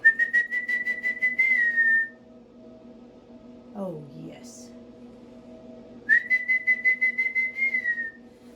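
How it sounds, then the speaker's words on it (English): A person whistles a sustained, trilling tune in two bursts, separated by a quiet pause with a brief spoken remark in between. "Whistling makes it even better."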